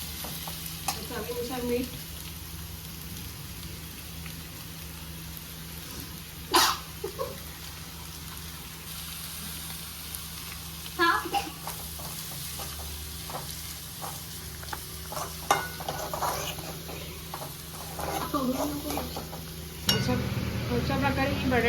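Potatoes sizzle steadily in a hot pan for vada pav filling, a constant crackling fry broken by occasional scraping stirs, with a voice speaking briefly over the cooking.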